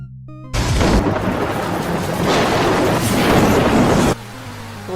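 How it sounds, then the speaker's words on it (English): Thunder from a big storm in the adventure game Day of the Tentacle: a loud, sustained broadband rumble that starts suddenly, rolls on for several seconds, then cuts off abruptly, with no voices. "Looks like a big storm."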